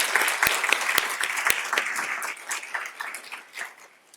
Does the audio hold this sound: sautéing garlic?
no